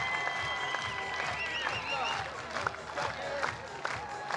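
A crowd at a Florida Gators vs Mercer Bears softball championship game cheers and applauds after an RBI double. The sustained roar and clapping comes from the stands, with a commentator talking over it.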